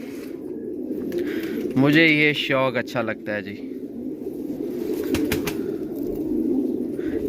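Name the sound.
pigeons cooing and flapping on the roof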